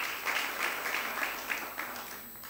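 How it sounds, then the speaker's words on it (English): Audience at a school debate knockout contest applauds after scores are announced, a moderate, brief burst of clapping heard from some distance in a hall. "A round of applause."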